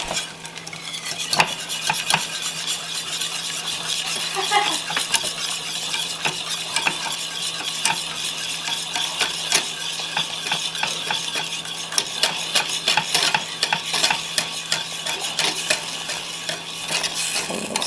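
A thickening homemade liquid latex mixture is stirred, with steady wet scraping and swishing from a utensil moving through it. The scraping runs continuously at close range with no talk.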